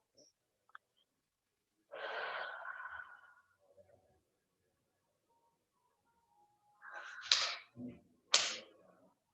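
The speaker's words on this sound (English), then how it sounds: "Taking a nice deep breath in through here." During a floor and core exercise class, a slow deep inhale is drawn through the nose, followed later by a couple of sharper, breathy exhales, quiet and close in an otherwise still room.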